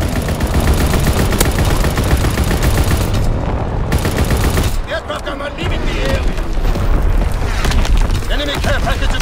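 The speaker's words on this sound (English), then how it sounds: "Incoming enemy artillery." Enemy artillery barrage in Call of Duty WWII multiplayer, loud booming explosions layered with rapid gunfire and dense battle noise throughout, easing briefly before heavy blasts resume.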